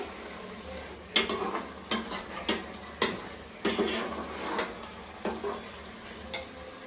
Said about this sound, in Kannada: ಇದಿಷ್ಟು ಹಾಕ್ಬಿಟ್ಟು ಇವಾಗ ಚೆನ್ನಾಗಿ ಫ್ರೈ ಮಾಡ್ಕೋಬೇಕು